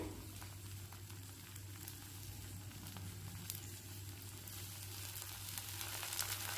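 Sesame oil sizzles around a rava dosa frying on a hot pan, a soft, steady crackling hiss with faint pops, quiet and continuous throughout.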